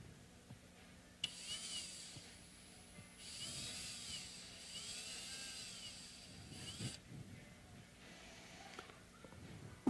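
A small power drill whirs in short, high bursts against a guitar tuning machine during a PRS repair, starting and stopping with quiet pauses between runs and light handling noises.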